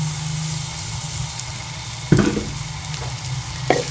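Onions frying in ghee in a pan give a steady close sizzle, with two sharp clatters of a utensil partway through.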